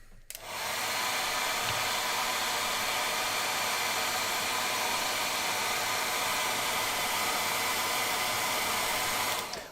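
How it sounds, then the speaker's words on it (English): A handheld hair dryer blows steadily at close range for nearly ten seconds, starting abruptly and holding a constant, loud airy roar until it cuts off. "let's get a hairdryer on that"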